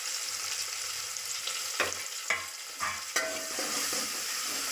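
Bay leaves, cloves and cinnamon sizzle in hot oil in a pan, a steady close frying hiss broken by a few sharp stirring scrapes, with no voices.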